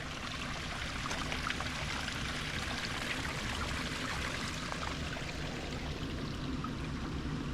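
A creek flowing in the Talladega Forest, a steady soft burble and trickle of running water heard up close and fairly quiet, continuous for the whole stretch with no voices.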